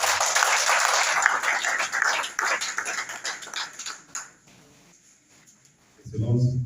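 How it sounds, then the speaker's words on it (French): Audience applause at an official project launch ceremony, steady dense clapping through most of the clip that thins and fades out, followed by a brief burst of speech at the end. "Veuillez applaudir encore."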